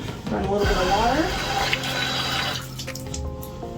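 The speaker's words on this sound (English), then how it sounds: "run a little bit of water" Water runs from a tap and splashes into a sink, with someone talking over it before the flow fades near the end.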